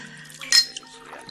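Water poured for a guest at a home-cooked meal table, heard as a short liquid splash with a faint glass clink, brief and close, over a quiet room.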